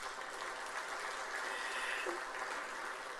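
Dense, steady applause from a large congress hall audience, a continuous even wash of clapping heard from a distance with no talk over it.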